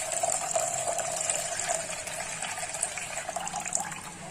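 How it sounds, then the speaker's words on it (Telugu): Soaking water from millets being poured into a cooking bowl, a steady continuous trickle and splash running for several seconds at close range with no talking. "వాటర్ అన్ని గిన్నెలోకి తీసుకున్నాను."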